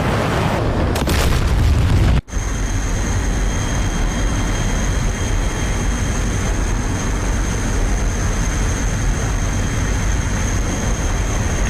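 A single heavy boom from artillery missiles strikes in the DCS combat flight simulator, a sharp crack near the two-second mark followed by a long steady rumble and a constant high whine of aircraft noise.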